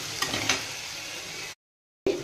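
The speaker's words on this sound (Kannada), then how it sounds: "ಹಸಿಮೆಣಸಿನ್ಕಾಯಿ ಹಾಕ್ತಾಯಿದ್ದೀನಿ ಸ್ವಲ್ಪ. ಅದು ಚೆನ್ನಾಗಿ ಫ್ರೈ ಆಗಲಿ." Green chillies fry in a pan for a gojju, giving a close steady sizzle with a couple of stirring clinks before the sound cuts out briefly and returns.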